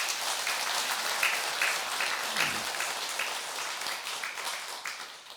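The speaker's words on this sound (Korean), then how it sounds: "우리 박수 한번 쳐주세요" A temple congregation at a Buddhist monthly dharma service claps steadily and fairly faintly, a continuous patter of many hands lasting several seconds with no talk over it.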